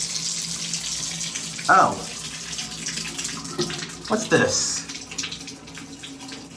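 Water runs steadily from a shower tap in a hotel bathroom at the Westin Savannah Harbor resort, giving a soft continuous hiss. A person speaks briefly over it, and a few knocks of handling can be heard.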